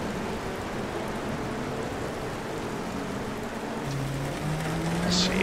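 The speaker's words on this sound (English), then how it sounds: "Well, that's extra rain." Steady hiss of heavy rain in a Sebring endurance race in a racing video game, constant and fairly loud, with low engine drone underneath.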